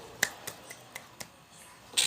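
Classroom applause for a student group during a lesson, heard as a few sharp, evenly spaced claps at a moderate distance, ending in a louder burst of clapping.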